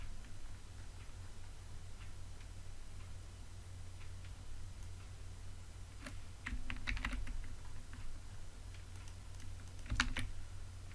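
Code typed on a computer keyboard, close-up clacking keystrokes in sparse, irregular bursts that grow busier in the second half, over a steady low electrical hum.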